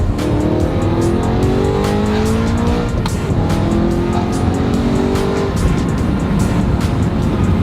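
BMW E92 M3 accelerating hard up close, its engine note climbing steeply, dropping sharply at an upshift, then climbing again, with tire squeal mixed into the loud, continuous drive.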